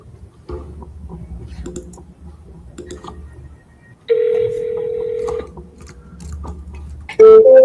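A phone call reaches voicemail and a steady electronic beep tone sounds, preceded by faint ticking and a low hum on the line, with another short tone at the end.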